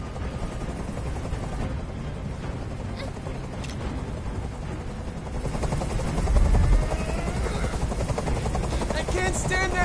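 A helicopter hovers in Detroit: Become Human, a constant loud rotor drone with low thumping that swells louder partway through and runs continuously under the game's spoken dialogue.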